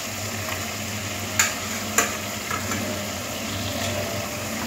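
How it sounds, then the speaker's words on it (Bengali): Fried potatoes are stirred into a watery chicken curry gravy in a pan, a steady soft sizzle with a couple of sharp spoon scrapes and knocks, no voices. "আলুগুলো দিয়ে চিকেনটাকে আরও একটু 1-2 মিনিট কষে দিতে হবে।"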